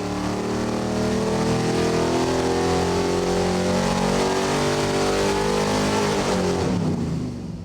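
A junkyard 5.3L Vortec V8 revs hard on a dyno, a loud sustained engine roar with rising and shifting harmonics that holds steady for several seconds before easing off near the end.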